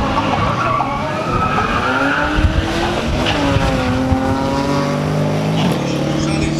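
A Mercedes-Benz C63 AMG and a BMW 135i in a quarter-mile drag race, loud engines roaring and climbing through gears with tire squeal, steady and close throughout.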